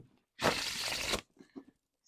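A deck of plain-stock tarot cards being shuffled, one dense papery riffle lasting under a second, close and crisp, followed by a couple of faint soft card taps.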